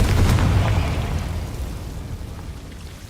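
A Confringo fire spell explodes in Hogwarts Legacy: a loud, deep blast at the start that rumbles and slowly fades away over a few seconds, with no voices.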